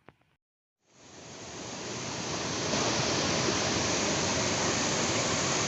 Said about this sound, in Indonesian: kita jumpa lagi di air terjun Yeho, Tabanan, Bali